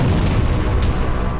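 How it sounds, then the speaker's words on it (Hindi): Explosions from Russian missile and drone strikes on Kyiv, heard as a continuous loud, rumbling roar with two brief sharper bursts. "सात घंटे तक लगातार यूक्रेन में धमाके होते रहे।"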